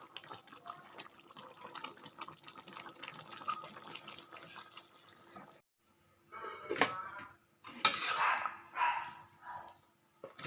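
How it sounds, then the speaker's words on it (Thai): Catfish and eggplant curry is ladled from a wok into a pot: soft, faint liquid sloshing and dripping at first, then after a brief silence several louder, close splashing pours. "ตักลงหม้อครับผม แกงในกระทะแต่ต้องตักลงหม้อนะครับ"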